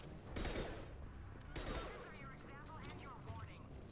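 Rapid bursts of Phalanx pistol fire from Mass Effect 2, the DLC sniping pistol, crackling through dense game battle noise with overlapping shots and a steady loud din, no clear talk over it.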